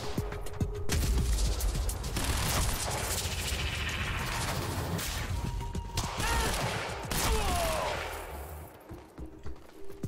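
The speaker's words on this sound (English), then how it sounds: "I held on to my assault rifle" Sustained assault rifle fire in the video game Quantum Break hammers on for several seconds amid explosions and mechanical clatter, then thins toward the end, loud and close throughout.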